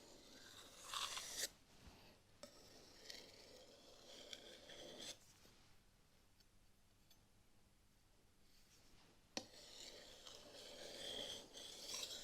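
A chef's knife is drawn across a 3000 grit whetstone in a damp workshop, making repeated raspy grinding strokes in bursts, with quiet pauses between them. The scraping is close and fairly quiet, with no speech.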